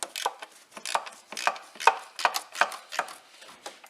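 An 8mm socket wrench working a bolt on a Land Rover Discovery 3.0L SDV6 diesel during a timing belt change; a rapid series of sharp ratcheting clicks in quick bursts, close and fairly clear, with no talking.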